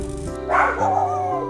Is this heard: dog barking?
yes